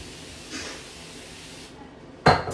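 A short, sharp burst from a cleaner spray bottle in a bathroom near the end after quiet room tone, with a fainter hiss earlier on.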